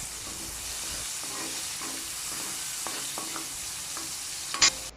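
Garlic sautéing in a frying pan still greasy from fried chicken, a steady close hiss and sizzle with a few soft scrapes and one sharp clink of the utensil near the end.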